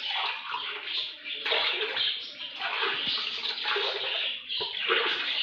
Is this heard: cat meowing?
no